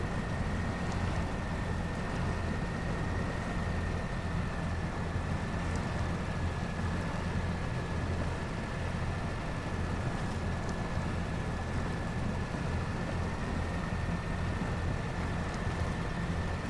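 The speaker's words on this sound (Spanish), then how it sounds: "Está forzándose el motor al máximo y el consumo de combustible es pero altísimo" A truck engine strains at full power in the off-road game SnowRunner on the Yukon map in North America, a constant loud droning roar with a steady high whine held throughout, no talk.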